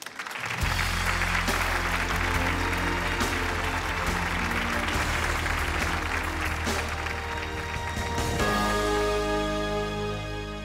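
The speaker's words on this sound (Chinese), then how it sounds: "我们掌声有请被道歉人儿子" Studio audience applause fills a Chongqing TV talk-show stage, a steady loud wash of clapping running throughout with music playing underneath.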